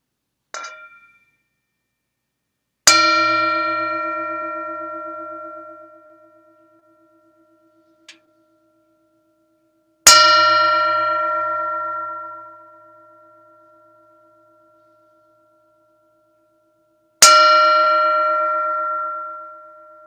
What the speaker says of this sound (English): you're invited to simply enjoy the sound of the bell